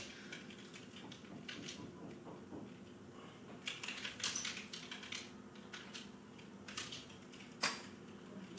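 Typing on a computer keyboard sounds as irregular bursts of close, clicky keystrokes that come faster and denser in the second half, over a low steady room hum, with no talking.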